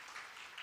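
A church congregation claps during a Sunday morning worship service. The soft, even wash of applause is brief and somewhat distant.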